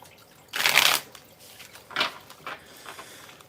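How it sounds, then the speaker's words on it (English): A deck of tarot cards shuffled nearby in quick riffling bursts: a loud flurry, then a couple of shorter softer shuffles, with no talk. "Let me shuffle this real quick."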